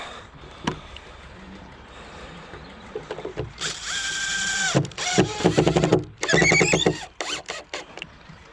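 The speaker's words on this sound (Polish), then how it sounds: "czyli gdzieś w tym miejscu zrobimy sobie wkręta" A power driver sinks a screw into wooden lintel formwork, its motor whining in rising, strained bursts with short pauses between, loud and close, amid faint handling knocks.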